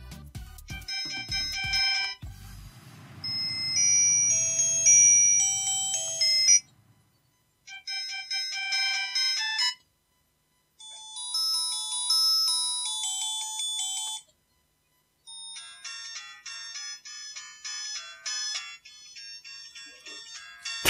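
A cheap AIEK phone plays a ringtone melody in thin, bright electronic beeps, several phrases separated by short pauses, with a faint muffled voice and handling noise at the start.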